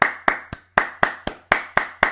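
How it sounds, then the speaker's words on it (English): A single pair of hands claps nine times in a steady, even rhythm, each clap sharp, close and loud with a short decaying ring, with one brief pause partway through. "Let's clap it up for De'Ami Brown"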